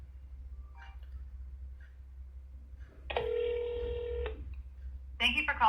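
Telephone call to a health clinic being placed: a short burst of dialing tones, then a steady ringback tone for about a second, followed by the start of an answering voice.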